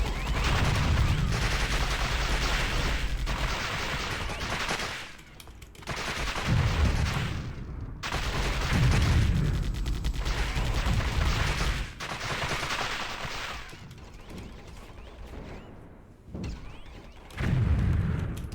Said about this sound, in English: It's getting explosive, little like token explosions off it.